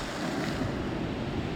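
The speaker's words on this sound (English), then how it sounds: "The waves are still a little bit more hectic than I thought" Ocean waves wash against the shore at a fishing spot, a steady, loud roar of surf mixed with wind noise on the microphone and no clear breaks.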